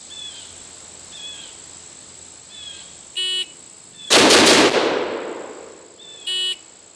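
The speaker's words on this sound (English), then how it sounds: "Let's try 3 shots with that" Three shots from a semi-automatic carbine come in one rapid, loud, sharp burst outdoors. Short electronic beeps sound just before and after it, and crickets chirp faintly in the background.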